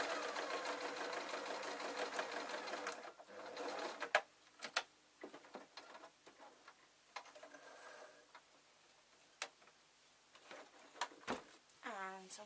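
A sewing machine hems a fabric scrunchie, running steadily for about three seconds, then giving way to quieter clicks, ticks and handling noises while someone talks.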